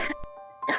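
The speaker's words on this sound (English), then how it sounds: "Is this cough related to your symptoms you're still experiencing?" A woman with lingering COVID-19 long-hauler symptoms gives two short, close coughs, one at the start and one at the end, separated by a brief quiet gap.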